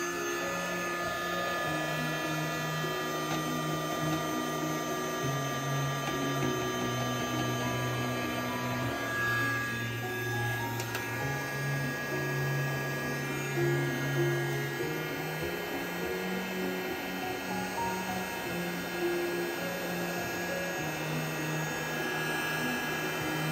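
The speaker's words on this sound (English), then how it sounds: "So I'm gonna go ahead and dry with my little dryer." A small electric dryer whirs continuously at close range, a steady motor hum with slight pitch wavering throughout.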